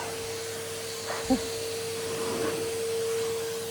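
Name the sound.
vacuum cleaner running in entrance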